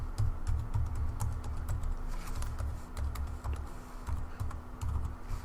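Rapid, uneven keystrokes on a computer keyboard clatter steadily throughout while a password is typed in, close and fairly quiet, with a low hum underneath.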